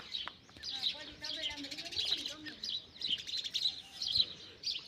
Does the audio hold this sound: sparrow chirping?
yes